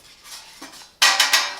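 Metal frying basket of a Silvercrest SHFD 1400 C1 digital air fryer handled up close: a few soft scrapes and taps, then a sharp loud clatter with ringing metallic knocks.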